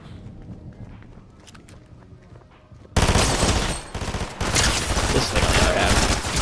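Fortnite gunfire: after a quieter start with footsteps and faint game sounds, a loud burst of rapid automatic shots erupts and continues in dense volleys close up.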